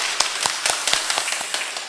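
A church congregation at an Easter Sunday service claps to welcome a visitor. The claps come as a brief, uneven run of sharp hand claps at moderate distance, with no voices.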